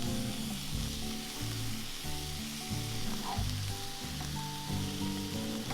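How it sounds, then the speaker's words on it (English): Whitetail venison sears in a pan with a continuous bright sizzle, punctuated by a regular rhythm of scraping or turning strokes, heard close and without voices. "I kind of want to just slow cook them now that we seared them."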